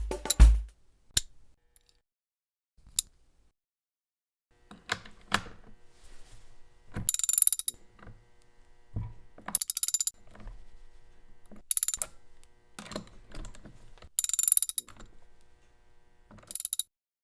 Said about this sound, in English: a common socket wrench sitting across the toolbox from its mate. Reinstall the bar and chain, and add the chain guard and fasteners.